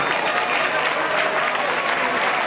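A group presentation audience claps together, a brief dense wash of applause at close, even loudness throughout.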